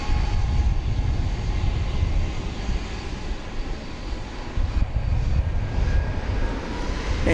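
An American Airlines Airbus A319 takes off from DFW Airport in the evening, its engines a loud, continuous broadband roar that holds steady and swells slightly throughout.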